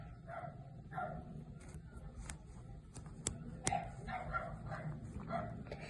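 A dog barks and yips repeatedly in short bursts, fairly distant and faint against steady background noise.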